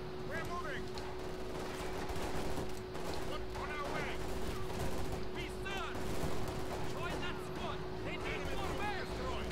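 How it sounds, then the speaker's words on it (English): Rapid bursts of small-arms and machine-gun fire crackle through a Company of Heroes 2 battle, sustained and fairly close over a steady tonal hum, with someone talking over the shooting. "Dang it, they're still shooting at us."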